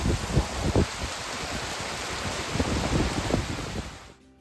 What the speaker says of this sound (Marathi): खळखळ वाहणाऱ्या पाण्याचा आवाज कानावरती पडला